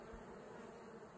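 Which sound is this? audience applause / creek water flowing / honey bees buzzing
honey bees buzzing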